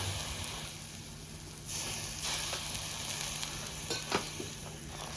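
Yeast-free butter naan dough sizzles on a hot tawa after water is added to it, a continuous close hiss with light stirring and pressing sounds and no speech.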